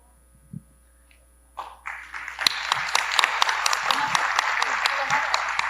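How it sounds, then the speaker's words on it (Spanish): Applause at an accounting and tax conference, starting with a few scattered claps after a brief quiet and building into a dense, sustained round of clapping that carries on to the end. "Agradecimientos y aplausos nuevamente para el ingeniero Luis Chávez"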